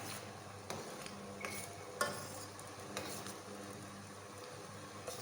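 A herbal decoction simmers and bubbles in a pot, a quiet steady boil with occasional spoon clinks and scrapes against the metal as it is stirred.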